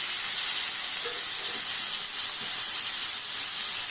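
Pumpkin pieces fry in hot oil for a dried shrimp dish, giving a steady, broad hiss and sizzle that holds evenly throughout with no talk.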